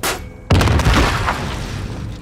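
A grenade blasts in Call of Duty: Modern Warfare, a sudden loud, deep boom after a brief quiet moment, its rumble lingering and fading over two seconds.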